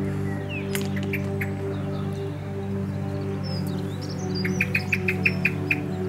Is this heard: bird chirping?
yes